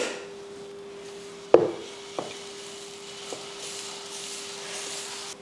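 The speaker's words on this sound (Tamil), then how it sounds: "தோசைக்கல் நல்லா காஞ்சிடுச்சு இப்போ நம்ம வந்து ஊற்றிடலாம்" Dosa batter poured onto a hot griddle: a sharp knock, then a soft, steady sizzle of frying with a few lighter taps from utensils, close and moderately quiet.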